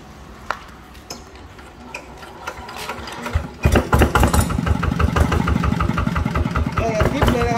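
A 120 DI diesel engine, in original stock condition, idles with a fast rattling clatter, then is revved up halfway through into a louder, rapid knocking roar close by, with someone speaking briefly.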